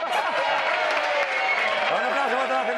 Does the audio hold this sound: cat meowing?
no